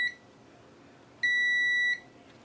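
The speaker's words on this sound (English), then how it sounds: "It's beeping and then it stops." A multimeter on continuity mode, probing an SMD board in a Nintendo Switch that won't power on, gives one steady high beep lasting under a second. Faint tones sound before and after it in a quiet room.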